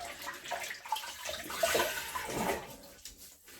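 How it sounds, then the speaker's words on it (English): Water splashing at a sink while the face is wet before a shave, a close, continuous wash of splashes and trickling lasting a few seconds with no talking. "Just going to wet the face a little bit."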